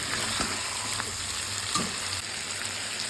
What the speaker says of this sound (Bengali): আলুর সঙ্গে একবার ভালো করে কষিয়ে তারপরে উষ্ণ গরম জল দিয়ে দেবো।